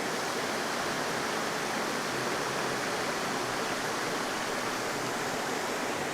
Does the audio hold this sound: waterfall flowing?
yes